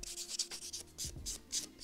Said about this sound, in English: It does this kind of polishing thing with a polisher bit.